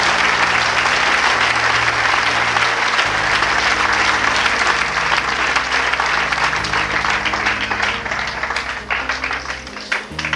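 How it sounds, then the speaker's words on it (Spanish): A church congregation applauds loudly and continuously for about ten seconds during a Spanish-language sermon, while low sustained organ or keyboard tones play underneath, the clapping thinning slightly toward the end. "Denle un aplauso al Señor con todo su corazón."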